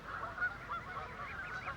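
Canada geese honk repeatedly among a flotilla of geese and goslings in Battersea Park, London, a steady run of overlapping nasal calls close by with no talk.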